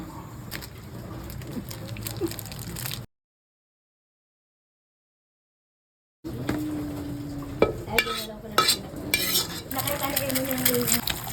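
Samyang noodles stirred and mixed in a pan, with scraping and light sizzling in two bursts separated by a silent gap, the second livelier with clinks of utensils and pot.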